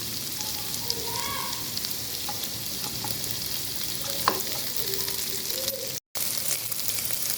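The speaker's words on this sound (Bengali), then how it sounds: "এখন দিয়ে দিচ্ছি আগে থেকে সিদ্ধ করে রাখা চিকেন" Pre-boiled chicken goes into hot butter with lightly fried ginger and garlic, giving a steady, loud, close sizzle with faint stirring scrapes and no voices.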